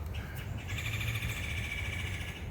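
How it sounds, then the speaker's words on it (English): A faint bird calls with a thin, repeated chirping trill over a steady low rumble of outdoor background noise. "Bird."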